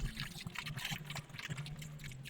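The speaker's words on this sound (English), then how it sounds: "Pasta going in." Dry pasta pours into a pot of water in a home kitchen while making pasta salad, a short watery rush with soft splashing and trickling that fades slightly midway, no talking.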